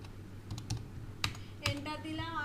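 Nearby typing on a computer keyboard, a few separate keystrokes and then a firmer press, faint over a quiet room with a trace of voice toward the end.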